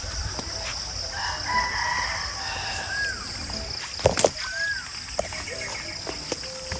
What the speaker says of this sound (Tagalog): yung huni ng mga ibon yung maririnig mo